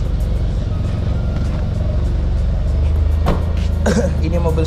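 A modified Mini Cooper S R56 engine runs warm at a steady idle inside a workshop, loud and continuous with a couple of brief sharper bursts near the end.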